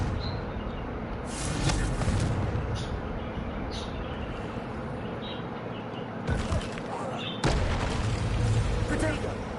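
Confringo fire spells in Hogwarts Legacy burst as loud, booming explosions in a dense stream of blasts and rumble, with two sharp, bright bursts standing out.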